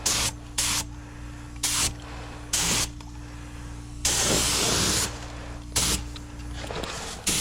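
A spray gun lays base and clear coat on a car quarter panel during an autobody spot repair, firing in short hissing bursts with brief pauses, then one longer continuous spray, all over a steady low compressor hum.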